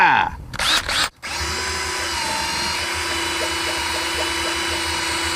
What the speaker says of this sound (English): I give you the 20-volt cordless power drill.